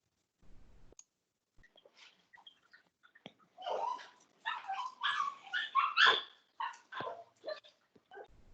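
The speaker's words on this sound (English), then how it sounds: "Somebody heard the dog barking, so she woke up and started barking." A dog barks and yips in a series of close, sharp bursts, starting with soft whimpers and breaths, then building into louder repeated barks in an indoor room.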